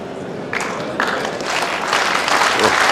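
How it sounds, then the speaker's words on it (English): A large crowd at a 1999 World Bowls singles match breaks into applause, a dense wash of clapping that builds and holds steady, loud and close. "Acknowledge the applause of this large crowd"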